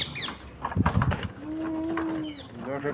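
A parrot calls outdoors in a series of short, shrill squawks and chirps at close range, alongside a sustained tonal note and some background rustling.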